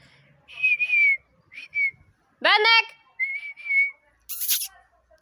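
A person whistles to call a dog indoors, several short rising and falling whistled phrases separated by pauses, with a spoken call between them.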